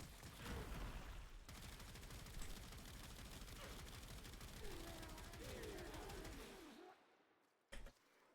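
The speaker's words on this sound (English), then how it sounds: "So let's shoot these guys." Rapid automatic gunfire from a shooter video game rattles densely for several seconds, then cuts out, followed by a brief single burst near the end.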